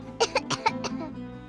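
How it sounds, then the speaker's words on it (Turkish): A child gives a short run of quick, close coughs, about five small bursts in a row that taper off, in a quiet indoor room. "Öksürüyor biraz."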